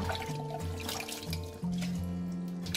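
Onion flowers are rinsed in a basin of water for pickling, a steady close-up slosh and trickle over a low continuous hum, with no talking.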